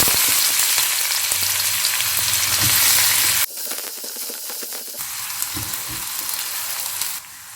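Mustard seeds, cumin and chopped onion hit hot oil with a loud, hissing sizzle that drops abruptly, then returns softer with faint stirring clinks, no voices over it.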